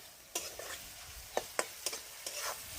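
Spices fry in oil in a pan while being stirred, with a soft background sizzle broken by several distinct scraping strokes of the spoon at uneven intervals.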